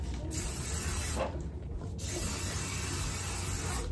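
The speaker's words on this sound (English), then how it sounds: "This is the best setting spray." Aqua Net hairspray hisses in steady, continuous spraying close by, with brief pauses between bursts and no talking.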